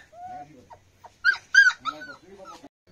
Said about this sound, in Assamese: কুকুৰটোক বান্ধি ৰখা হৈছে আৰু মোৰ কিন্তু যেনেকৈ চিঞৰি আছে কান্দি আছে